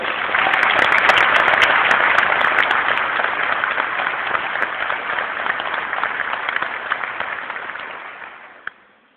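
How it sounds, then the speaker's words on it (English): A large audience at an anti-fraud professionals' conference gives a long round of applause, a loud, continuous wash of clapping that swells early, eases slowly and stops with a final clap. "let's give them a round of applause"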